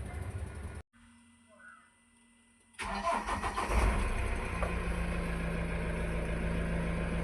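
After a brief hush, a bus engine cranks and catches with a loud surge, then settles into a steady, rumbling idle.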